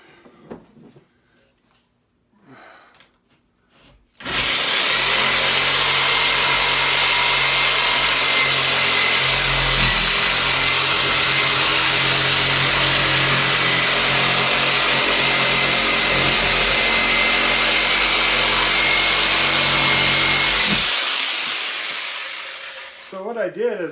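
A power tool cuts through ceiling drywall toward a stud with a loud, continuous, close-up grinding roar lasting about seventeen seconds, preceded by a quiet stretch with faint sounds.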